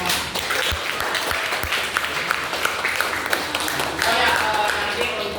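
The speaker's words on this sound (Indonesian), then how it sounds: "Kita beri tepuk tangan buat kita semua." Classroom applause from a group of students on a teacher's first day in class 3T, a dense steady wash of many hands clapping for several seconds, swelling slightly louder near the end.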